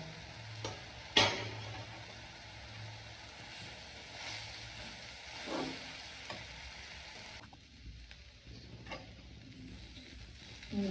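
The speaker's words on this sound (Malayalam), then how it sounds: "ഇതിലേക്ക് നമ്മൾ കട്ട് ചെയ്ത് വെച്ചിട്ട് ചപ്പാത്തി ഇട്ട് കൊടുക്കാം. ഇത് നന്നായി ഇളക്കി യോജിപ്പിക്കാം." Chopped chapati stirred with egg in a pan for kothu chapathi makes a soft, fairly faint sizzle with intermittent scrapes and taps of the spatula, including one sharp clink early on.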